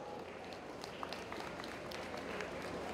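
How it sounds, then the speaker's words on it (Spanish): Crowd applause fills an outdoor awards moment at a regional women's basketball tournament final between Totontepec and Tlacotepec, a steady, fairly distant wash of clapping with scattered sharper claps. "¡Fuerte el aplauso!"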